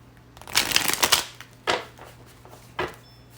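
A deck of tarot cards riffles in a quick burst, followed by two short, sharp card snaps, close and crisp with no talking.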